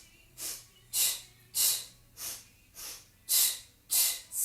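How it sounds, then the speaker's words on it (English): A person sniffs and blows in a steady rhythm during a Pilates leg-lift exercise, about eight loud, airy bursts close up, each followed by a brief quiet gap. "Sniff, sniff, blow, blow."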